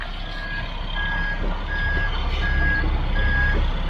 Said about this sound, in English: Here comes our second truck.